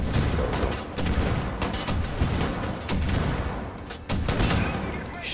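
Heavy combat in Wolfenstein: The New Order: a dense run of booming rocket blasts and gunfire crashing almost without pause, loud and close, with no speech.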